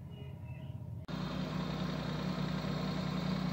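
A Maruti Suzuki Alto car with a new clutch plate and gear rod starts up and settles into a steady low engine idle, close and continuous after a quiet first second.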